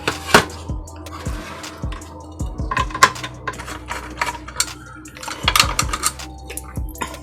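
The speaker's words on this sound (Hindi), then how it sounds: "तो इसके खोल दिया हमने मॉसफेट के स्क्रू" Screws are being unscrewed from the MOSFETs of a 12V 400W power supply under repair, giving close, sharp metallic clicks and clinks in irregular bursts, with short quiet gaps between them.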